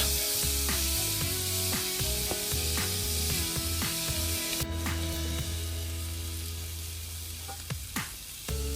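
Ostrich fillet steaks sizzle steadily on a cast iron pan as they are turned, a continuous hiss with a brief clack midway, all under background music.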